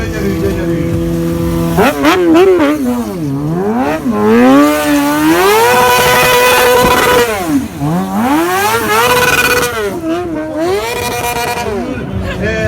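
High-revving engine held on the rev limiter around 12,000 rpm through fourth, fifth and sixth gears at a drag racing event, a loud continuous wailing tone rising and bouncing against the limiter throughout, with crowd or announcer talk underneath.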